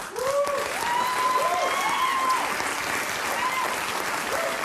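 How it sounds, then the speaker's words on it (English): An audience applauds continuously and loudly at a talk show taping, a dense steady wash of clapping with some voices threaded through it. "They're clapping. They're clapping for it."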